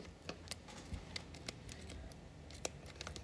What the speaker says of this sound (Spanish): empezamos a cortar la tela